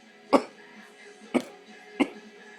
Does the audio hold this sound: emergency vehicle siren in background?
no